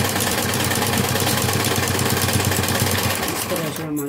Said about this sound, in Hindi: इस तरह से अब हमने पॉकेट पर सिलाई लगा ली है।